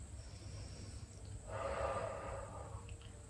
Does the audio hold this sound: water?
no